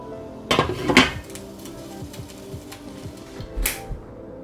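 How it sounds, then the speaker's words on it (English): Meatballs being stirred in a boiling pot, with a couple of loud clanks and scrapes of the utensil against the pot up front, then lighter intermittent knocks and a short clatter near the end. "Let's mix them up so it's boiling. You just wanna stir it around every once in a while."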